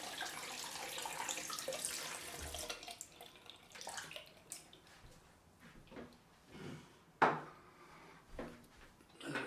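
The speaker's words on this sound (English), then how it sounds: "I'm just going to wash this handle off of excess leather" Water from a tap runs steadily as a Heljestrand 5/8 straight razor handle is rinsed of excess leather, a soft hiss that fades into quieter handling sounds and a sharp clack.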